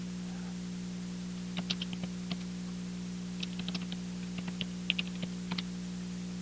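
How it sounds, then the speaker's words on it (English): Someone types a password on a computer keyboard in a quiet room with a steady electrical hum, producing a scattered run of soft, close key clicks in small irregular bursts. "If I type the password right"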